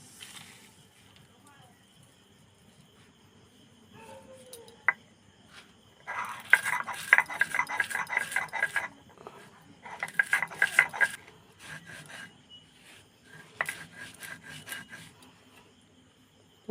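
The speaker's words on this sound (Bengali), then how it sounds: "মশলাগুলো একটু দানা দানা রেখে পেটেছি" Spices being ground coarsely on a flat shil grinding stone for a sour-spicy mango pickle, giving rough rhythmic scraping and rubbing strokes in bursts, close and fairly loud, with quiet pauses between rounds.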